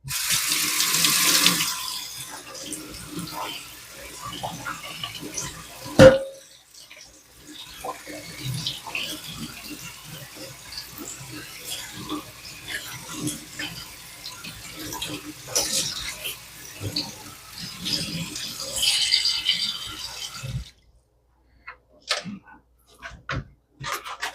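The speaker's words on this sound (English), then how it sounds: "So you just run a little cold water from your faucet." Cold water runs from a kitchen tap into a sink with splashing and clatter, steady for about twenty seconds before it cuts off, followed by quieter handling sounds.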